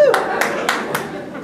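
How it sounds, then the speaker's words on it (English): A comedy-club audience at a stand-up set bursts into applause and cheering, a dense, steady wash of clapping with sharp repeated swells, loud and close throughout. "Don't cheer for that, people."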